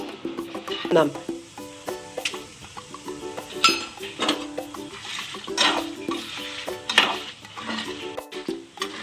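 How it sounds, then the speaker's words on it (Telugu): Coriander seeds roast in a pan with a soft dry sizzle, punctuated by frequent clinks and scrapes of a spoon stirring against the metal; a voice speaks briefly over it. "ధనియాలు వేసి వేయించుకుందాం"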